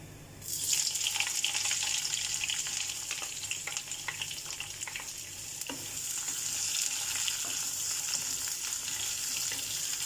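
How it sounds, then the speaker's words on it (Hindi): Onions frying in hot oil in a pan: a dense, continuous sizzle starts abruptly and stays close and fairly loud, with scattered clicks and scrapes of stirring running through it. "अब ओनियन को फ्राई करना है, इसे ज़्यादा डार्क ब्राउन नहीं करना, लाइट ब्राउन।"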